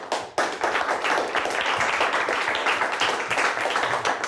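A studio audience applauds at the close of a televised high-school quiz bowl match between Northern Michigan Christian and Portland St. Patrick. The clapping is dense, steady and fairly loud, with no talking over it.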